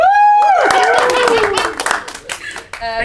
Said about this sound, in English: Give us a clap if you want that one.